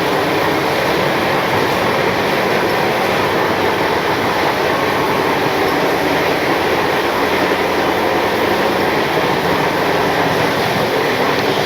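Steady loud rumble and rattle of a train in motion heard from inside an AC 2-tier sleeper carriage on an Indian long-distance train, continuous roar with faint rhythmic clatter throughout.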